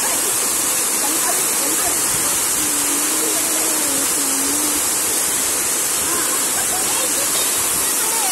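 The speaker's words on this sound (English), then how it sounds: "That is so fast raining water fountain." A water fountain at a bird park splashing hard with a loud, steady rushing wash like heavy rain, continuous throughout, with faint voices and a bird-like whistle underneath.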